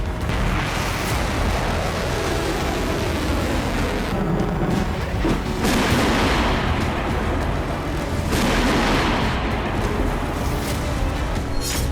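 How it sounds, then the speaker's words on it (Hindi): Heavy booms and blasts erupt repeatedly over a dense, roaring background in Kyiv during Russian missile attack and air defense fire, several loud explosive bursts spaced a few seconds apart. "कीव में एयर डिफेंस सुबह से ही एक्टिव है और कई धमाके अब तक सुने जा चुके हैं।"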